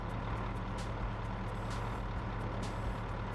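Truck with wood auto-load in the video game Farming Simulator 22, a steady low engine drone with faint short high beeps or hisses over it, no talk.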